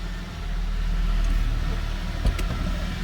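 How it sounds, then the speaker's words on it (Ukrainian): A petrol-fuelled Daewoo Lanos with a newly replaced muffler settles into a steady low idle right after starting, with a short mechanical click near the end and nothing else over it. "Все, запускаємо двигун."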